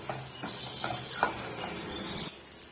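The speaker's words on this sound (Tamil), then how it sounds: "இப்போ ஓரளவுக்கு சின்ன வெங்காயமும் வெள்ளைப்பூண்டும் நல்லா வதங்கி வரட்டும்" Small shallots and garlic saute in a pan for a curry-leaf chutney, a faint soft sizzle broken by a few gentle stirring scrapes and clinks, with no voices.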